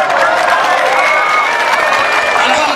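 Audience applause at an interreligious debate, dense steady clapping with crowd noise filling the whole stretch, loud and close.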